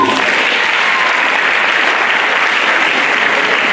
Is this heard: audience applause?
yes